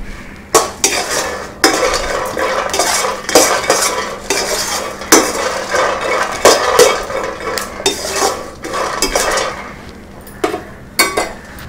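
A metal spoon scrapes and clinks steadily in a hot kadai as peanuts and dried red chillies dry roast, with close, rhythmic stirring and faint rattling of the pieces against the pan.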